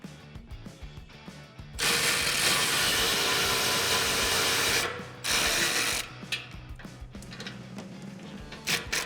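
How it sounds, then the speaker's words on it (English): A power ratchet spins off 14mm nuts from a bull bar mount on a 2016-2023 Toyota Tacoma, a dense whirring rattle in two long bursts separated by a pause, followed by lighter clicks and handling noises. "We're gonna start by removing our 14mm nuts."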